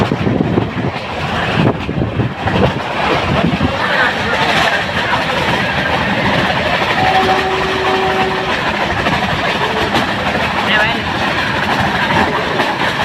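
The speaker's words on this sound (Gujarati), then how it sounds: "અત્યારે ઊભી રહી છે ટ્રેન. આ ટ્રેન છે આપણી" A passenger train bound for Junagadh, heard as steady rail and carriage rumble with broad wind-like noise throughout, a brief tonal hum midway, and voices talking faintly underneath.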